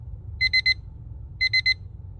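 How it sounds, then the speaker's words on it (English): A Flaito LED house clock sounds its alarm ringtone: two clear groups of three rapid, high electronic beeps, loud and close over a faint low hum. "it's the usual ringtone of alarm"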